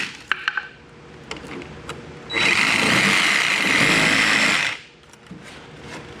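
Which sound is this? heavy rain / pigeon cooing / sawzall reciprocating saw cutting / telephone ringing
sawzall reciprocating saw cutting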